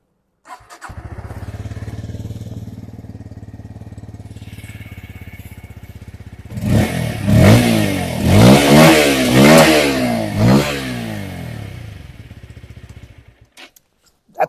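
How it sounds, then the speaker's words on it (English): A Bajaj Pulsar P150 motorcycle idles with a steady throbbing exhaust beat, then gets revved hard several times in quick rising-and-falling bursts before the engine cuts off, close and loud with no talking. "Here you have the exhaust, which I'm going to fire up for you right now."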